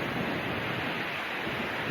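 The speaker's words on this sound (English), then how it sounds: "look at that big wave. That's why they surf out here. These waves are huge." Large surf waves roll in at Stinson Beach, a steady broadband wash of breaking ocean water with some wind noise on the microphone, continuous and fairly loud with no talk.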